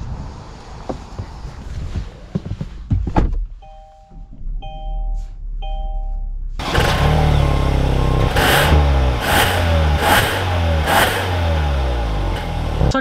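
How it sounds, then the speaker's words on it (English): A 2021 Kia Sorento EX Turbo starts moving after a few warning chimes, the engine droning steadily and building loudly as the SUV accelerates while driving, with cabin road noise. "let's take this Sorento EX out and see how it drives."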